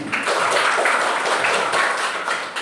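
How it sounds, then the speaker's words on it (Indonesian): A class of children claps together in a steady, dense burst of applause that holds for a few seconds before easing slightly at the end. "Tepuk tangan dulu semuanya."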